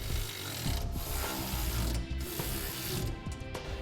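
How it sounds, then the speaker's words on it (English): A ratchet runs down the fasteners on a B&W fifth wheel hitch being installed on a 2004 Chevrolet Silverado, giving continuous close clicking strokes with brief pauses between them. "Now that we've got all our fasteners installed finger tight, we'll go ahead and run them down."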